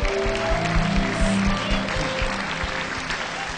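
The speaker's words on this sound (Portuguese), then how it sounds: "Vamos aplaudir a Jesus." A church congregation claps for Jesus in a steady wash of applause that fills the whole stretch, with low rhythmic thumps and faint voices mixed in.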